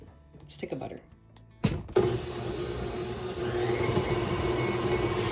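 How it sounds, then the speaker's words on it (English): An electric mixer beating butter for chocolate frosting starts up after a moment of quiet clatter and talk, then whirs steadily and grows slightly louder and denser. "So we're just beating up this frosting."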